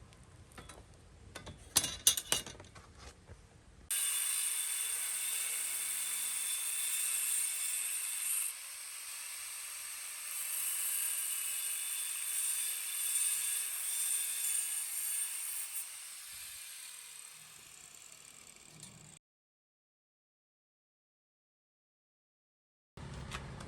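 Angle grinder cutting metal stock for a DIY work table: a steady, loud, high-pitched screech for about fifteen seconds, preceded by a few clinks and followed by silence.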